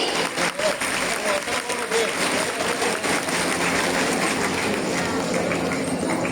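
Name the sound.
loud applause at women's day celebration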